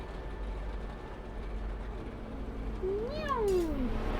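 A single cat meow rises and then falls in pitch, fairly clear against a quiet, steady low hum, with no speech.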